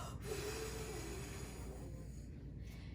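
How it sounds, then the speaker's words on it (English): Pursed-lip breathing shown in a pulmonary rehabilitation clinic: a steady, close, breathy rush of air flows through the whole stretch as the breath is drawn in and then blown out through puckered lips, with no talking. "when you're pursed-lip breathing, you want to smell the flowers, so inhale, and when you exhale, pucker your lips, blow out the candles."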